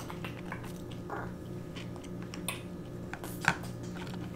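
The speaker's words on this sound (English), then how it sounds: "As you can tell, I'm still eating the carrots." Someone chews raw carrots close to the microphone, with soft, crunchy bites and mouth noises that are faint and irregular, and no talking.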